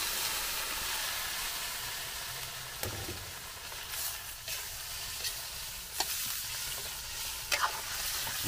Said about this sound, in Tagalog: Pwede na po natin ihulog yung ating karne na minarinate.